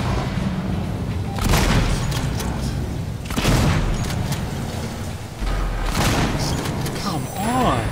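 Shotgun blasts in the survival horror game Alien Isolation land as heavy booming bangs, about three spread across the stretch, loud and close amid a dense, rumbling game soundscape.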